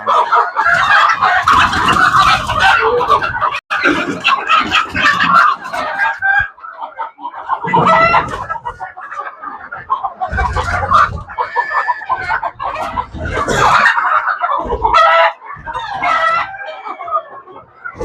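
Native chickens on a farm raising around 300 birds, loud close clucking and occasional crowing in overlapping bursts with short pauses, no talk.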